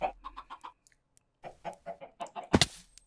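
Minecraft chickens cluck in short quick bursts, a row of four, then a pause and another cluster ending in a sharp flap-like burst, all fairly quiet with no talk over them.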